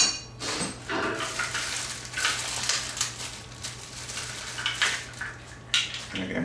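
Metal parts of a Broil King Keg grill are handled and fitted, giving irregular close clanks, rattles and scraping clinks that come in quick uneven bursts.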